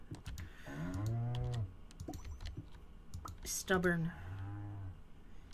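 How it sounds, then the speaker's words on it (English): Cows in the farming game Stardew Valley moo twice, long lowing calls separated by keyboard typing clicks and a spoken word, moderately close and fairly quiet. "The cows are ruining everything."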